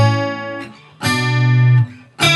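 Acoustic guitar two-note chords from a song, played loud and close with the chords sliding up the neck: three separate strums, each ringing for a moment before the next.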